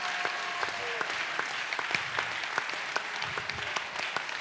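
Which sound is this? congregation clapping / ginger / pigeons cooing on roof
congregation clapping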